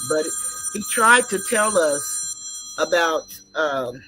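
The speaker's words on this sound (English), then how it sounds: "that's a phone call I'm not going to get to take" A telephone rings with an incoming call, its steady electronic tones sounding faintly beneath someone talking continuously close by.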